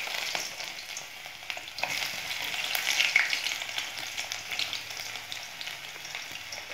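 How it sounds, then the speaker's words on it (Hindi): Garlic fries in a pan with greens for a pumpkin leaf sabzi, giving a dense, steady sizzle with faint crackles and soft stirring scrapes close by, and no talking. "ये थोड़ा पक गई है तो इसमें हम लहसुन है वो डाल देंगे।"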